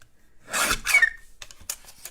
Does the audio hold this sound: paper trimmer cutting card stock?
yes